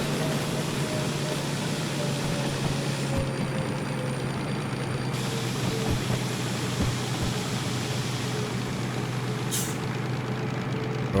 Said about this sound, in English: Already we can hear that the engine is under some load as I start to go up the preliminary part of the hill.